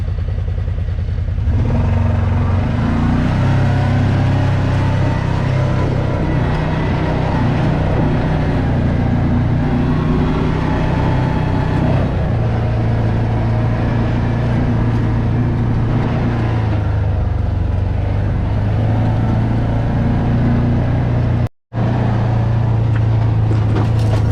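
A Kawasaki Teryx side-by-side crawls along a rough trail in low four-wheel drive, its engine droning steadily and loud throughout with clattering from the chassis, broken by one brief cut near the end.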